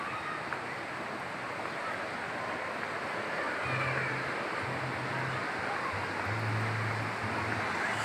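Serayu river water flowing steadily at close range, a broad continuous rushing wash with wind buffeting the microphone and no voices.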